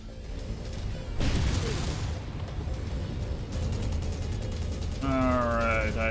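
Sustained rapid machine gun fire from a mech in the video game MechWarrior 5 Mercenaries, a loud continuous mechanical rattle with heavier bursts and a rising whine near the end, overlapping other game noise.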